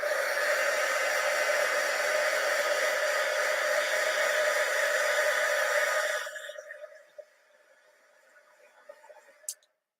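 An electric heat tool blows steadily over ink and embossing powder on a crafting card, a loud even whoosh that cuts off after about six seconds, leaving faint clicks and small handling sounds.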